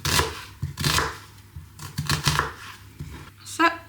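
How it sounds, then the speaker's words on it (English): A knife chops an onion on a cutting board in a series of quick, uneven crisp cuts and taps, close and fairly loud. "Grab your onion and chop it however you like your onions."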